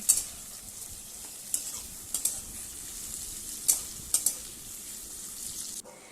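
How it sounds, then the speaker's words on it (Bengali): Chopped tomato fries with onion in a pan, a soft, steady sizzle broken by a few sharp clicks and scrapes of a spoon stirring against the pan, quiet and close, with no voices. "এবার টমেটোটাকে 2 থেকে 3 মিনিট পেঁয়াজের সাথে ভালো করে একটু ভেজে নেব"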